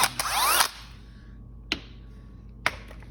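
A power drill whirs briefly and loudly up close while removing the impeller from a Yamaha 500 jet pump, then stops; two sharp clicks follow in near silence.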